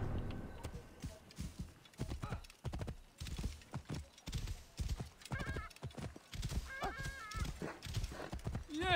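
Rapid clip-clop of hooves from a galloping horse in Assassin's Creed Origins, with a couple of whinnies in the middle and background game sounds.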